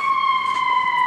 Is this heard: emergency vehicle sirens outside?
yes